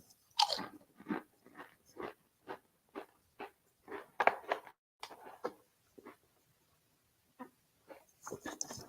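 Repeated crisp crunching bites close to the microphone, an irregular series of sharp crackly chews with short pauses between them.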